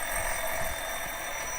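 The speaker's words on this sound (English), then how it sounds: "our egg timer, who keeps count on the tiara time" An egg timer rings during a live cooking stream, a steady, continuous bright ringing that holds at an even level throughout with no talking over it.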